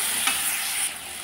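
Bay leaves and a green chili sizzle steadily in hot cooking oil, a continuous close hiss with a brief crackle burst near the start, no talking over it.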